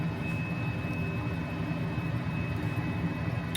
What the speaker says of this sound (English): we're going to go ahead and get this helicopter slowed down